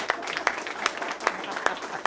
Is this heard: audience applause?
yes